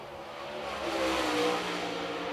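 Super late model race car engine roaring during qualifying at Lancaster Motor Speedway, a loud sustained high-revving drone that swells in the middle and stays strong to the end, heard alone.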